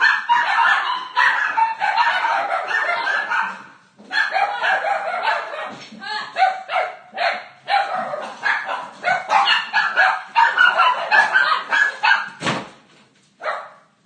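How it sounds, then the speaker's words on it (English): A dog barks and yips loudly and repeatedly at close range in rapid, uneven bursts, with brief pauses between volleys. "my dog's just lost it"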